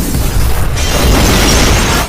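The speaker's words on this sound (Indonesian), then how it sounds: "Vijay meninggalkan rumahnya yang meledak bersama Mitra dan ibu Vijay yang tidak selamat." A house explodes in a film scene, a loud sustained boom and blast that rumbles and roars for about two seconds with no voices.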